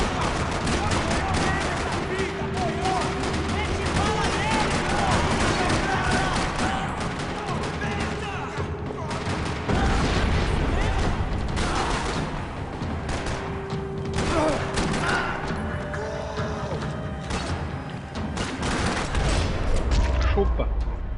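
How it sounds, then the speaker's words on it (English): Sustained gunfire rattles through a parking lot shootout in Max Payne 3, dense bursts and volleys of shots layered with crashes and booms, loud and continuous for the whole stretch with some voices mixed in. "Another parking lot rattling with gunfire."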